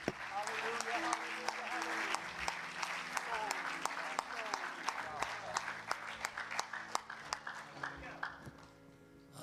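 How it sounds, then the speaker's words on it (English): A church congregation claps its hands in praise at a worship service, a steady wash of applause with singing and music underneath that thins out toward the end. "Let's give God a hand clap of praise,"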